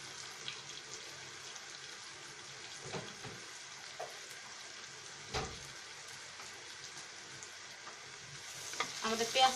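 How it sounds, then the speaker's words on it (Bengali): Onion frying in a pan, a steady soft sizzle with occasional stirring knocks and scrapes, moderately close, with no talking. "আমাদের পেঁয়াজটা ভাজা হচ্ছে"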